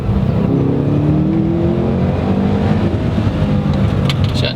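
A 2015 Subaru STI's engine revs hard toward 7,000 RPM, a loud sustained growl with rising pitch sweeps as it pulls through the power band, heard from inside the car without speech.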